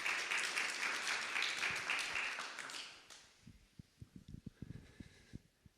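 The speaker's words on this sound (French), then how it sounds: "On peut l'applaudir, hein." An audience in a church sermon setting bursts into a loud wash of applause that fades out after about three seconds, leaving a few scattered claps.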